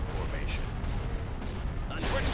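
Dense, continuous space-battle gunfire from Empire at War's Awakening of the Rebellion mod, a steady wash of fusillade and blasts with a brief louder burst near the end, with voices talking over it throughout.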